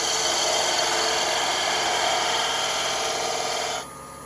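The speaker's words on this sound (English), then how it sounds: "Take a skew, round this end off over here." A skew chisel scrapes steadily against the end of a spinning wooden handle on a lathe, a continuous close, loud rasping whir that cuts off abruptly near the end.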